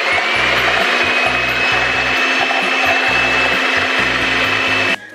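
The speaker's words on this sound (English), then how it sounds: "I'm going to use my cake mixer to just mix this until we have like a creamy" A handheld cake mixer whirs steadily and loudly through a creamy mixture in a home kitchen, a continuous motor drone with a rhythmic low thumping beneath, cutting off abruptly near the end.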